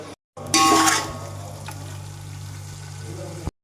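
Tomatoes sizzle and fry in a hot pan for biryani, a brief louder hiss at first settling into a steady low sizzle.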